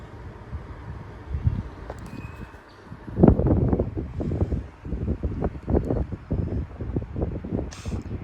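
Strong 40 mph wind gusts tear through trees in a Texas suburb during a severe weather outbreak, building into a loud, sustained roar with rustling leaves and rising and falling surges.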